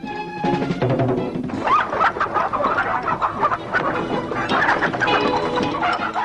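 Chickens cluck and squawk busily, several birds close by, with a rooster-like call among the irregular bursts.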